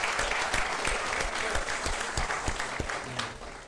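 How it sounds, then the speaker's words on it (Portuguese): Applause from a church congregation during a monthly thanksgiving service, a steady wash of clapping from many hands that carries on at an even level and tapers slightly at the end. "Palmas para vocês também."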